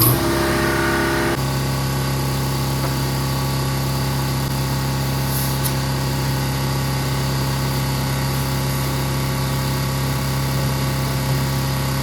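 A 1978 Ford F100 short bed truck with its engine running steadily as it is driven out toward a neighbor's garage, a loud continuous mid-pitched drone with no speech.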